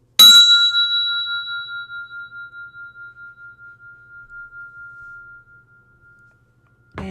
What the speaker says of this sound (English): This is a Tibetan bell, and you can use this dorja, which comes with it, to ring it, which makes one sound.